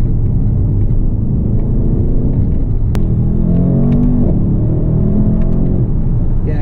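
A Mercedes-AMG S 63 4MATIC+ engine pulls hard under load, producing a loud, steady, deep rumble that holds throughout with no one speaking.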